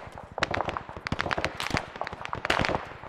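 Gunfire in an Arma 3 Vietnam-era battle, with rapid bursts of shots and sharp cracks at varying distances, some close and loud, others fainter, in an irregular dense volley.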